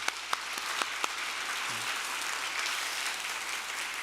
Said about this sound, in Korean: 우리 축복의 박수 해주시기 바랍니다